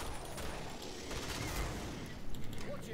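M4 carbine fire from the game Killing Floor on a Waterworks map: a dense run of rapid automatic shots with mechanical clatter, steady throughout and strongest toward the end, set against a busy backdrop of game noise.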